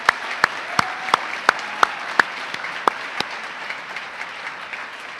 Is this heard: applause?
yes